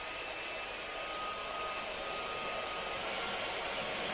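A Tineco ModaOne smart hair dryer blows steadily on its high setting, a continuous even whoosh with a thin whine, close and uninterrupted.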